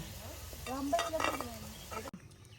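Onions sizzling and being stirred in a hot pan for a festive curry feast, a steady frying hiss with scraping stirs throughout, close and moderately loud, ending abruptly.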